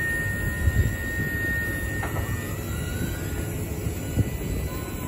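A mechanical lift folds with a low rumbling hum, marked by a few brief high squeaks and creaks along the way.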